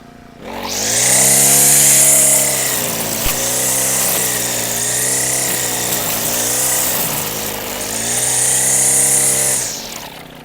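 A Procraft T5600 four-stroke petrol brush cutter revs up and holds a loud, steady engine whine, with its pitch rising and falling a few times as the throttle is worked, then cuts off near the end.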